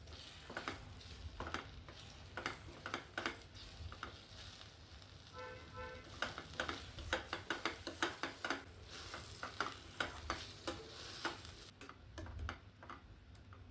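Four eggs being stirred and mixed in a pan, giving quiet, irregular scraping and clicking strokes over a soft sizzle at low level, with brief pauses between the stirs.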